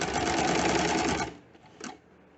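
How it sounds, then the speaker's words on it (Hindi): A sewing machine runs a fast, even stitch along the edge of a kurta sleeve placket, close and steady for over a second, then stops, leaving a faint click and rustle of fabric. "बिल्कुल एज पर सिलाई लगाएंगे।"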